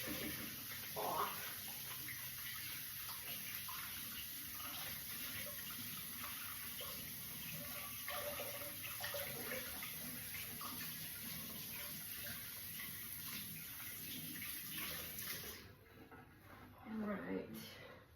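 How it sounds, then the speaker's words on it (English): Hands rinsed under a running kitchen tap, a steady wash of flowing water that continues almost throughout before cutting off near the end, with talking over it. "Rinse my hands a little bit."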